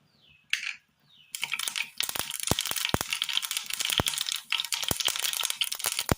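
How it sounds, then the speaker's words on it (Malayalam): Mustard seeds pop and crackle in hot oil: sharp, rapid snaps over a dense sizzle, starting after a brief quieter hiss and continuing loudly and close. "ചൂടായ എണ്ണയിലേക്ക് കടുക് ഇട്ട് കൊടുക്കാം"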